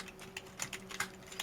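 Fast, irregular keystrokes on a computer keyboard, close and fairly quiet, with a steady faint hum underneath while someone enters a background image URL into a website builder.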